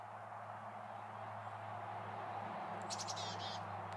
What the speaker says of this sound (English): Chickadee-dee-dee-dee-dee-dee